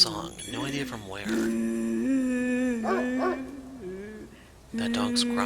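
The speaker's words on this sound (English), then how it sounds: "That dog's growling again." A dog in the video game Spirit Hunter: NG makes drawn-out, whining, howl-like vocal cries in several bursts, with short pauses between them.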